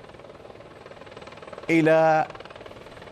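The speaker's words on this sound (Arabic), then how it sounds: "نرى الآن طائرة الهليكوبتر التي كانت قد أجلت الرهائن الأربعة تصل" An Israeli army helicopter carrying four rescued hostages from Gaza arrives at a hospital. Its rotor gives a steady, rhythmic drone throughout, with a news presenter talking over it.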